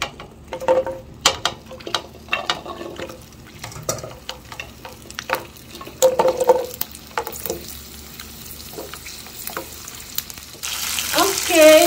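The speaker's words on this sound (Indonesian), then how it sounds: "Sekarang bumbunya kita goreng dulu sebentar." A spice paste of shallots, garlic, candlenut and turmeric fries in hot oil, a steady close sizzle with scattered pops and occasional stirring scrapes, growing louder and hissier near the end.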